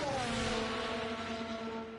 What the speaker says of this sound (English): Engine is glitched out.